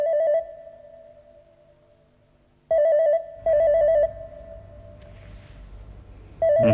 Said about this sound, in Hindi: इस वक्त किसका फोन आ गया?